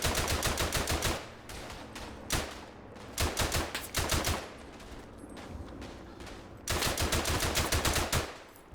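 Rapid machine gun fire in the video game Verdun comes in several long, loud bursts of tightly spaced shots, broken by brief pauses and single reports.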